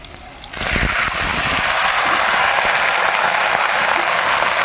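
A sudden loud sizzle as spinach hits hot oil seasoned with five-spice in a wok, then a steady hissing fry that continues unbroken with no talk.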